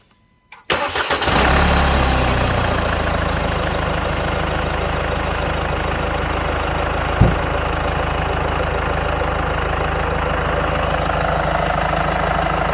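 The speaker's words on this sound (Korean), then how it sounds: "오늘 시동을 한번 걸어보도록 할게요." A car engine cranks and catches after excess engine oil is drained, then settles into a loud, steady idle heard up close, broken only by a single brief thump midway. No one speaks.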